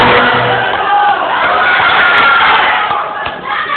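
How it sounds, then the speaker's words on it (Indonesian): Loud, dense applause and cheering from the audience at a debate between regency head and deputy candidates in Rokan Hulu, filling the hall with a continuous roar and scattered shouts. "Sekali lagi tepuk tangan yang meriah untuk pasangan nomor 1."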